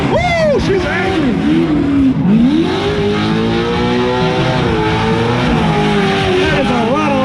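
High-revving car engine at a SEMA Show Las Vegas Hoonigan event, screaming loud and close with pitch sweeping up and down through repeated revs and holding a sustained high-RPM whine, with voices faintly underneath.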